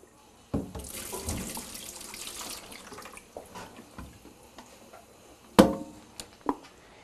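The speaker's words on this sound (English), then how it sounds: "what I'm going to do is I'm going to pour the developer down the sink." Used black-and-white film developer poured down a sink makes a loud gushing splash that fades to a trickle and drips, followed by a few sharp clunks and knocks from handling the developing tank.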